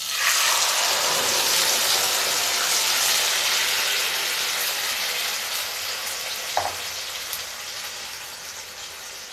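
Tomatoes added to a puree fry in a pan with a loud, close, continuous sizzle that gradually eases, broken by one faint clink.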